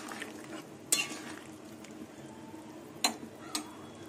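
Pointed gourd fritters simmering in gravy, quiet bubbling in a pot with two or three sharp utensil clinks against the rim.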